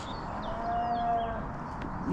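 Cattle released into woodland near Lytchett, with a single faint, drawn-out moo at middle distance over soft outdoor ambience.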